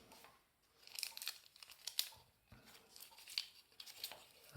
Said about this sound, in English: Tape it on there.